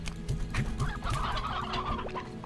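Hens in the video game Slime Rancher give repeated clucking, gobbling calls in a quick rhythmic series, close and fairly loud over steady game ambience.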